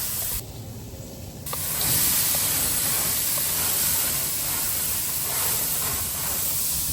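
A loud, steady hiss of steam rising off a hot Weber charcoal grill being cleaned with a Grill Rescue brush, swelling after a brief quieter start and continuing without pause.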